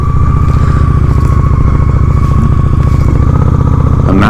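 A Honda Shadow 750 ACE motorcycle riding through a neighborhood, its engine a loud, steady, close throbbing rumble mixed with wind buffeting, continuous with no talk.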